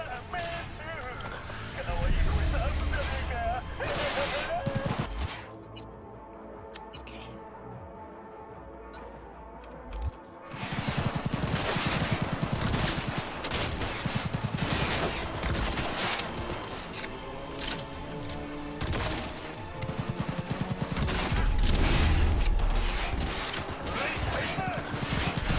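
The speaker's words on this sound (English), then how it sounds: "How are none of those bullets hitting him?" Gunfire in the video game Cyberpunk 2077, heard as dense rattling volleys and shots over a busy game soundscape, with a quieter lull partway through and someone talking over it.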